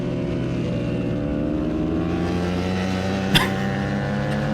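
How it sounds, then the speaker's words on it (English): A BMW race motorcycle at full throttle on a racetrack produces a loud, steady exhaust roar that holds constant with little variation, closely recorded from just behind it. "I've never been that close to the full grunt of the exhaust of that bike before."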